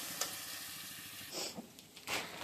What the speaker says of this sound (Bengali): পেঁয়াজ আর রসুন ভেজে নিচ্ছি